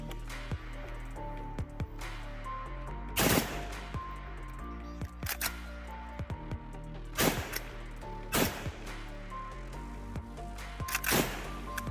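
M4 rifle with a wide open trigger fired with the trigger held down, several sharp, loud bursts of rapid shots spaced a second or two apart outdoors, each ringing briefly before the next.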